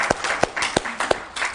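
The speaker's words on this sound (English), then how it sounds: "I think we should give them a hand of applause" A small audience at a talk on Book of Mormon place names claps briefly, a few sharp, evenly spaced claps ringing out over a softer patter of hands.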